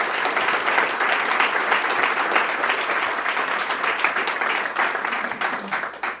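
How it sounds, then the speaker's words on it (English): A roomful of people at a health care innovation event breaks into loud, continuous applause that holds steady for several seconds before tapering off at the close. "So big round of applause for that"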